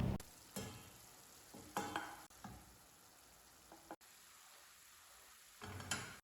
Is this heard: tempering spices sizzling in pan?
yes